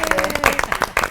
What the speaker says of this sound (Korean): 역시 박수